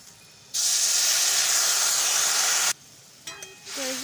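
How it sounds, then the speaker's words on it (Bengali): Water poured into a hot frying pan of fried potatoes bursts into a loud, steady hiss of steam lasting about two seconds, then cuts off, followed by a few soft utensil clinks. "তো আমি এর মধ্যে অল্প করে এবার জল দিয়ে দেবো।"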